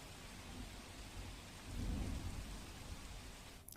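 Torrential rain pours down steadily over Junagadh, a dense continuous hiss with a deep rumble of thunder swelling in the middle and fading back into the downpour; no voices.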